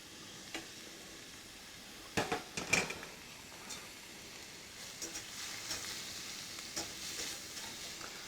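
Onions soften in a pan seasoned with fajita seasoning, giving a low steady sizzle broken by a few sharp clatters of stirring and scraping, faint and close.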